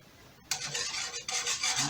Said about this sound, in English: whisk the cornstarch in and just allow the sauce to thicken